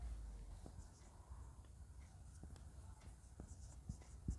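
A pen or pencil writes by hand on paper, with faint, close scratching strokes in short bursts and quiet room noise underneath.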